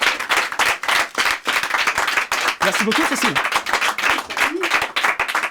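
Audience clapping at a mentalist stage show, dense and steady throughout, with a voice speaking briefly over the applause near the middle.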